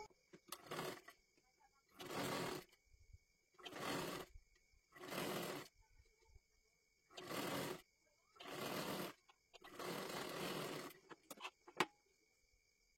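A sewing machine stitches along the edge of a fabric sleeve in six or seven separate bursts of running, each a second or two long with short pauses between, close and moderately loud, with no talk over it.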